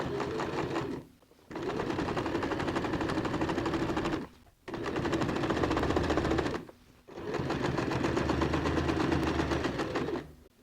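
A sewing machine stitches a bag made from recycled jeans in three long, loud bursts of fast rattling needle action, separated by brief pauses.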